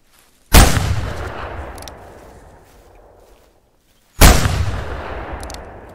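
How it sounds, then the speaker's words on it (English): Two loud, sharp .44 pistol shots ring out in the hunting video game theHunter Classic, each a sudden crack followed by a long rolling echo that fades over a few seconds. "That gun sounded awesome. Nice, crisp, clear."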